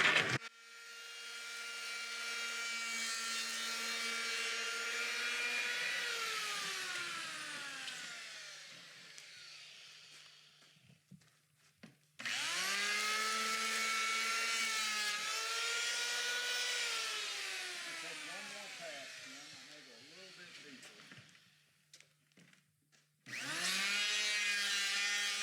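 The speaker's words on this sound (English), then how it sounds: "take a hand planer set on about 1/16, I may go back to a 32nd of an inch deep, and I want to make some passes around here" An electric hand planer set about 1/16 inch deep makes passes flattening a wood blank: three long whining motor runs that rise, hold and wind down, separated by quiet gaps, fairly faint.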